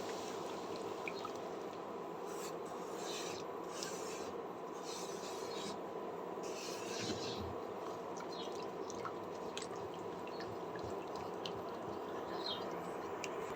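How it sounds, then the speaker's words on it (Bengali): A white sauce for pasta, made with a cup of milk, is stirred steadily in a pan, giving a continuous soft scraping and rubbing with faint liquid swishes that stay close and even. "দিয়ে এটাকে অনবরত নাড়তে থাকবো"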